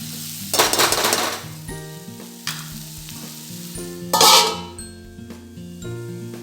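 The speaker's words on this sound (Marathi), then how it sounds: "याला थोडंसं झाकण लावून वाफवून घ्यायचं 1-2 मिनिटासाठी" Bitter gourd (karela) sabzi sizzles in a pan while it steams under a lid. Two loud bursts of frying hiss rise over a softer steady sizzle, with faint tonal sounds underneath.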